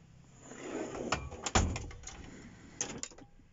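Cluttered drawer in a mobile auto repair van slides and knocks, with a few clunks and rattles of tools shifting inside, close and fairly quiet.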